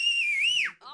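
A person whistles a single sustained, bright tone that bends gently up and down before sliding downward and trailing off, loud and close, with a brief rough breathy sound at the end.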